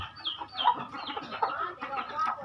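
A hen clucks repeatedly at close range while being fed mealworms, a busy run of short calls with a rooster's voice mixed in among other fowl in a farmyard.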